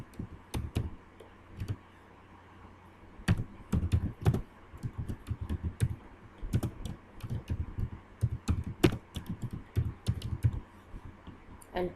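Text is typed on a computer keyboard in quick irregular bursts of close, crisp key clicks, separated by brief pauses, against a quiet room.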